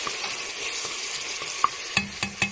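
Chopped onions frying in a pan, a steady close sizzle with a few sharp scrapes and taps from stirring toward the end.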